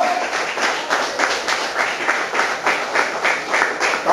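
A church congregation claps in a steady, rhythmic beat during a Portuguese-language evangelical sermon, the even pulses of hands keeping time throughout at moderate loudness.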